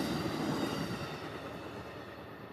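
A northbound train rolls past as a continuous broad rumble with a steady rail roar, fairly close and filling the whole stretch without talk.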